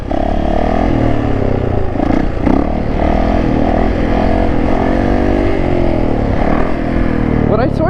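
A Yamaha YZ450F dirt bike engine runs loud and close with steady revving and rising and falling pitch, mechanical clatter over the constant drone, while a rider talks over it.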